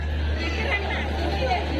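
A dense, steady babble of many voices fills a crowded railway platform beside a halted train, continuous and blended with no single speaker standing out.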